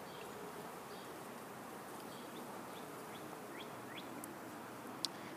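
Honey bees in a top bar beehive humming softly in a continuous buzz, with faint bird chirps overhead and a single brief click near the end.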